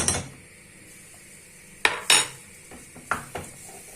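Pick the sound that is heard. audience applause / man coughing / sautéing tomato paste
sautéing tomato paste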